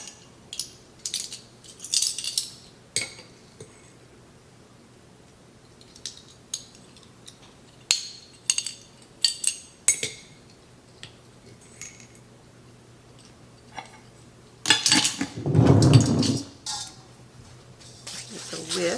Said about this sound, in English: Just a whisk, get it incorporated.